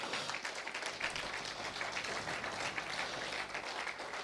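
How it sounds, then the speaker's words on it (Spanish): A church congregation applauding, a dense even patter of many hands clapping that carries on steadily without pause. "Denle un aplauso al Señor"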